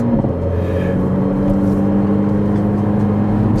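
Mercedes A45 AMG with resonator delete and back box mod, pre-OPF, exhaust holding a loud, close, steady rumbling rev with a gritty throaty drone throughout.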